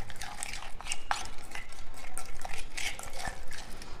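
A spoon stirs crushed lemon pickle in a bowl, giving steady wet scraping and mixing sounds with light clinks, close and continuous throughout.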